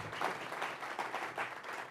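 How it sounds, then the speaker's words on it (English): An audience at a tribute event gives a sustained round of applause for Ann, a steady wash of many hands clapping at moderate distance with no voices over it. "would you give Ann a round of applause for all that she does?"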